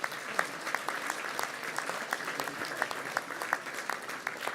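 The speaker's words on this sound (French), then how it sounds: "Je vous demande à nouveau d'applaudir Valérie Pécresse" An audience claps for Valérie Pécresse at a New Year's greetings speech in Île-de-France, with sustained even applause from a sizable room and a few sharper individual claps standing out.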